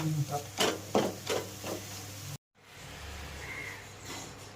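A spoon stirs egg puff masala with chopped coriander in a pan, giving a few scraping, clattering strokes at a steady rhythm with a soft sizzle underneath, then a brief cut to quieter frying hiss.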